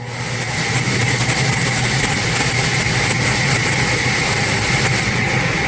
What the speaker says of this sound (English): Oh, the burner lit.